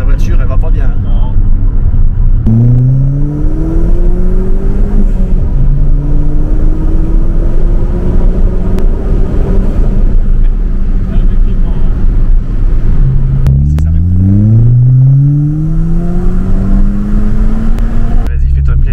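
Turbocharged car with large boost hoses accelerating hard from inside the cabin, engine pitch climbing through gears in loud rising sweeps with brief drops at shifts, while people talk over it.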